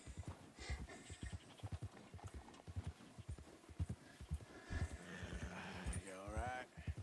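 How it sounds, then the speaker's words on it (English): Horse hooves clop in a video game, moving at an uneven, rhythmic walking pace, with a voice talking over them. "Clippity cloppity clop."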